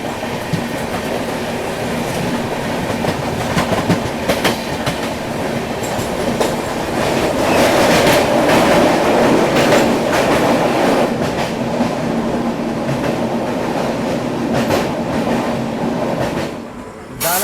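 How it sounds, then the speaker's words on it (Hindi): A long Indian express train rolls steadily past at Danapur station, wheels clattering over rail joints in a continuous loud rumble with occasional sharper metallic clacks, and no voices. "यहाँ सामने मेरे ख्याल से सुपौल पुणे एक्सप्रेस का डिपार्चर हो रहा है यहाँ पे"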